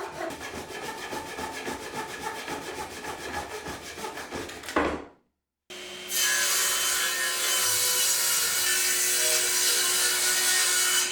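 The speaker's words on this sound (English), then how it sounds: "Then I can use a Japanese pull saw to cut the ends." A Japanese pull saw cuts through the ends of oak whisky barrel staves with steady, rhythmic rasping strokes. A short pause follows, then a denser, continuous sawing resumes, close and clear with no talking.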